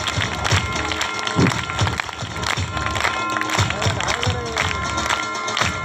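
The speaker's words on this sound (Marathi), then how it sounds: "आता जरी जोरदार टाळ्या वाजवल्या पाहिजे" Loud sustained applause and cheering from a crowd of students and staff at a school science exhibition in a government ashram school, with shouting mixed into the dense clapping throughout.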